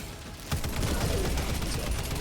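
A Helldivers strafing run airstrike rips into the ground as a loud, dense rattle of rapid impacts that starts abruptly and sustains, with no talking.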